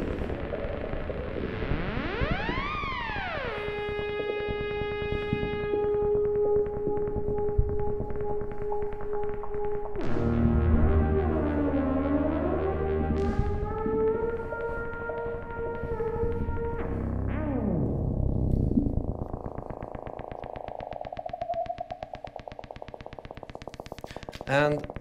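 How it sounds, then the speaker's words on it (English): Electronic music software running on a phone, driven by cheap Arduino sensors, producing swooping synthesized tones that glide up and down with buzzy textures and shifting pitch, fairly steady in level. "this is basically my phone that has all the music software running on it"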